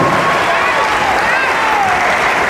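A theater audience at a cultural center in Burzaco bursts into dense, steady applause with some cheering, loud and sustained throughout, thanking the sound and lighting crew after a show.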